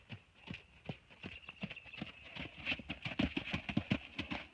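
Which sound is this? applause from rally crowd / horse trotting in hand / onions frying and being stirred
horse trotting in hand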